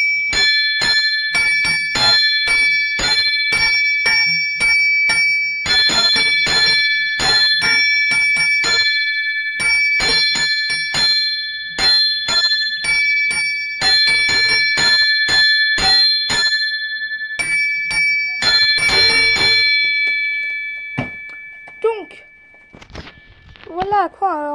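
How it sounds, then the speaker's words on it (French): An improvised carillon rung on church bells, a long run of bright struck peals with ringing sustained tones, loud and close, fading into a quieter tail at the end. "Voilà à quoi ressemble un petit carillon que j'improvise le soir ou le midi."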